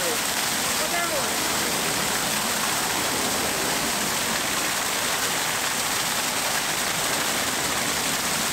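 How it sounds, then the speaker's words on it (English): A waterfall at the Folly Ruins in Port Antonio, Portland, Jamaica, roars as a steady, dense wash of rushing water, loud and close, filling the whole stretch without a break. "Waterfall."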